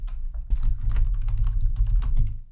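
Fingers type HTML code on a computer keyboard, producing a close, busy run of quick key clicks in uneven bursts with brief pauses.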